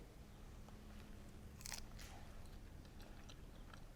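A salad leaf dressed with garlic vinaigrette being bitten into and chewed, one faint crisp crunch followed by soft, quiet mastication close up.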